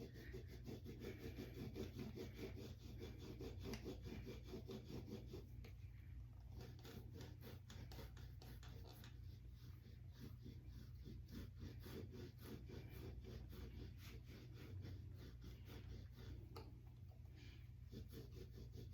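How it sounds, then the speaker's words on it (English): A scraping tool is tipped on its side and drawn along the upper leg at the glute–hamstring tie-in, making a steady, close, rhythmic rasping rub that continues throughout over a constant low hum. "Got the tool tipped on its side and I'm doing a little scraping, especially down here at the glute hammy tie-in."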